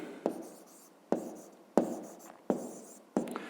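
Pen strokes of someone writing out a fifth-grade math exercise solution, five distinct scratchy bursts in a steady rhythm, each sharp at the start and trailing off, close and fairly quiet with no talking.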